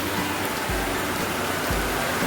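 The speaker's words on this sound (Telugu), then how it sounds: "బాగా హెవీగా పడుతుందండి మాకైతే వర్షం" Heavy rain pouring down on a home garden with potted rose plants, a dense, continuous hiss of falling water with a couple of soft low thuds, no voices.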